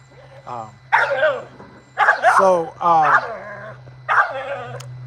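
A red pit bull terrier barks and whines in short bursts, fairly close, with a steady low hum underneath.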